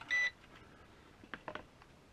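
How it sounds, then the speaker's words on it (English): A ZD102S GPS FPV quadcopter gives a single short, clear electronic beep during compass calibration while held nose down, followed by faint clicks and handling noises in a quiet room. "Hold the drone nose down, around to the left once again, and again you should hear another beep."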